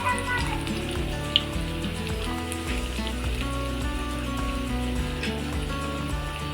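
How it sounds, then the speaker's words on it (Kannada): Onions sizzling in leftover oil for veg biryani, a steady crackling fry that runs continuously, close and fairly loud, with no talking. "ಸೊ ಅದೇ ಆಯಿಲಲ್ಲಿ ಇದನ್ನು ನಾವು ಫ್ರೈ ಮಾಡ್ಕೋಬೇಕು."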